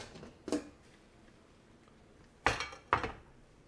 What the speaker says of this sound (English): I can open up the pot